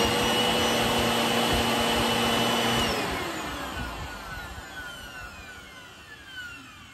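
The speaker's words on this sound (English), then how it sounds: "we have a good working Eureka Clean Living upright vacuum" An upright Eureka Clean Living vacuum cleaner runs with a loud, close whine that holds steady, then spins down and fades over the last few seconds.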